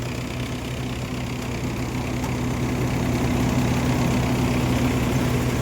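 A tractor engine drives a groundnut thresher, a steady low, droning run with a constant hum that holds evenly throughout with no pauses.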